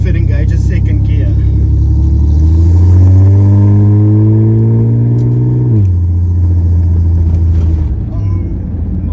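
Lifted off-road Ford AU Falcon engine roaring loud and close in a burnout, revs climbing steadily through a long sweep then dropping back to a heavy idle rumble.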